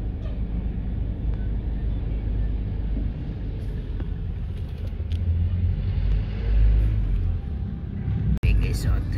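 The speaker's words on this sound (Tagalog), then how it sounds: "Heavy traffic." Heavy road traffic in slow congestion, a steady low rumble of idling and creeping engines that swells briefly midway, with a sharp knock near the end and faint indistinct voices.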